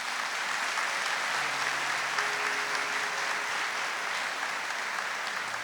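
A church congregation applauds together at a Catholic mass, a steady, dense wash of clapping from many hands that holds at an even level throughout, with no voices rising above it.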